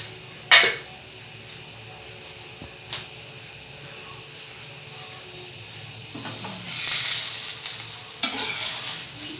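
Idli-batter dosa fries in oil in a pan with a steady soft sizzle, and a few louder hissing bursts rise as more oil hits the hot surface. No one speaks.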